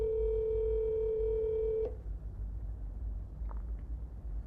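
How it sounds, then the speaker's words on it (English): An outgoing telephone call rings back with a steady electronic tone for almost two seconds, then cuts off abruptly, leaving quiet line noise and a faint click. "All right, Lisa, you better pick up the phone or I'm going to crash out."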